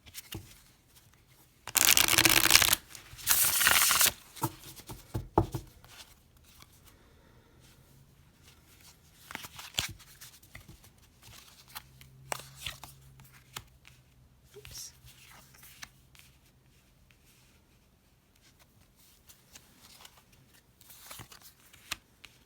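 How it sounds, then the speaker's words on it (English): Riffle shuffles of a Forest of Enchantment tarot deck make two loud, dense bursts of card flutter close by, followed by softer handling clicks and rustles with occasional quiet speech. "So I'm just going to give this a few shuffles"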